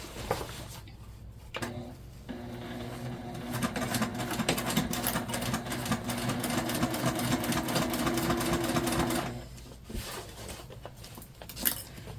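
A sewing machine stitches a tote bag in one continuous close run of about seven seconds, its rapid mechanical whir rising and falling, framed by quieter handling noises before and after.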